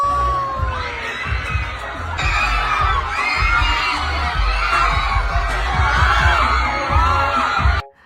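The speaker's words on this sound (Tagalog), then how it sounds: "Mapapawaw ka talaga sa mga hiyawan nila." A loud crowd of fans cheers, screams and shouts at a live performance, a continuous roar with high-pitched whoops close by and deep booming music or thumps underneath, cutting off abruptly at the end.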